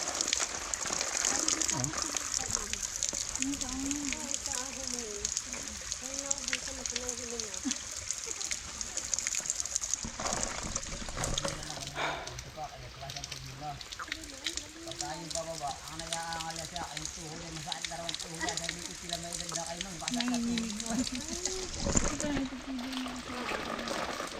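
Spring water flows non-stop in a continuous trickling, splashing stream close by, under people talking in Filipino.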